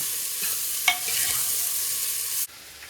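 Six onions frying in a pan for a Sindhi paya soup, a steady close sizzle with a brief scrape of stirring midway, cutting off abruptly near the end.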